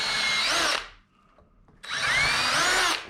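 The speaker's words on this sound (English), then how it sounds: "I'll just drill a pilot" A power drill bores pilot holes into wood boards set in a jig, two loud whirring bursts separated by a short quiet pause, close up and with no talking.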